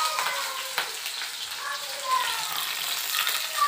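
Garlic and green chillies fry in hot oil with a steady, close hiss and soft crackle, a dense sizzle that holds evenly with a couple of light stirring knocks.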